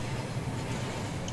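Trains running in the video game Rolling Line give a steady, continuous rumble of rolling stock at moderate level, with no talking over it.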